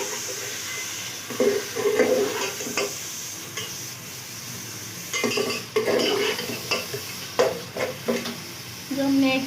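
Beef with garlic ginger paste frying in a pot, a continuous sizzle broken by repeated scraping and clattering of a spoon stirring against the metal.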